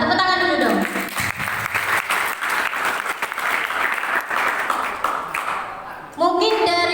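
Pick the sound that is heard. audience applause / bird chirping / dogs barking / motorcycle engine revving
audience applause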